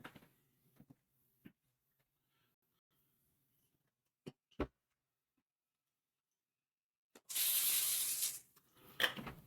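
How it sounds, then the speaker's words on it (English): A short hissing burst of aerosol cooking spray, sounding close, with a few scattered clicks and taps before it and a brief rustle after. "Spraying this is probably unnecessary, but I'm doing it anyway."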